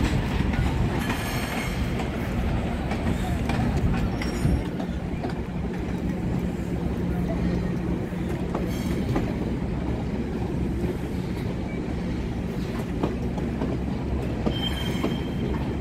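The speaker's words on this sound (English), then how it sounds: "Another GO train leaving Toronto, going outside different places outside Toronto." A GO passenger train pulls out of Union Station in Toronto, its cars rumbling steadily past with clattering wheels and occasional high squeals, loud and continuous for the whole stretch.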